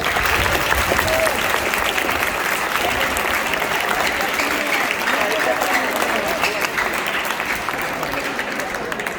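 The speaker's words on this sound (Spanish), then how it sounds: "vamos a dar un fuerte aplauso" A crowd at an Indigenous harmonisation gathering in Colombia breaks into loud, sustained applause that holds steady throughout, with voices mixed into the clapping.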